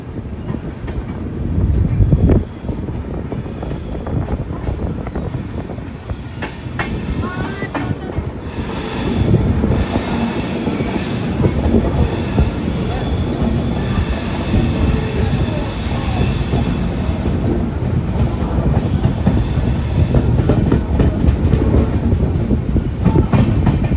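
The Vivek Express rolls along with a loud, continuous rumble and rising metallic wheel squeal, dense rail clatter filling the whole stretch and a brief thump near the start.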